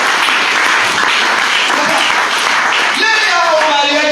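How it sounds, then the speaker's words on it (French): A church congregation applauds loudly and steadily, the clapping dense and close. A voice calls out over the crowd partway through. "Acclamez très fort"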